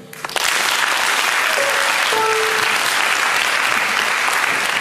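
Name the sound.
audience applause at a concert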